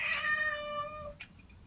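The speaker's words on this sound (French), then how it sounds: "Le chat est d'accord avec moi." A house cat gives one clear, drawn-out meow close by, just over a second long, in a quiet indoor room. A faint short sound follows.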